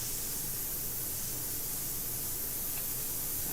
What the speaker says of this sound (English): I'm pulling back on the airbrush